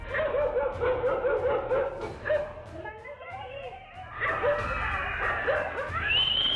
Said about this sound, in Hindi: गली में आवारा कुत्तों की दहशत।